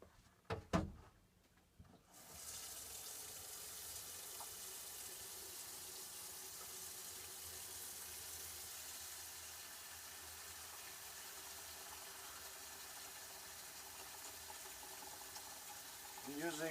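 Olives are rinsed under a steady rush of running water pouring continuously after a few brief knocks at the start, fairly close and even throughout.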